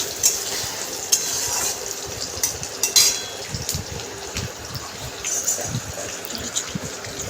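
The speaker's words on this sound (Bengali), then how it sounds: "পেঁয়াজগুলো দিয়ে আমি কিন্তু ভালো করে লাল করে ভেজে নেব" Onions fry in oil in a pan for a mutton dish while being stirred, giving a continuous sizzling hiss with scraping stir strokes and small pops.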